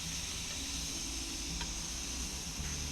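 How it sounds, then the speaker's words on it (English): Steady, soft sizzling hiss from chicken burger patties on a hot Weber Q gas grill, with faint ticks and crackles and no voices. "listen to that beautiful sizzle when the food hits the hot grill"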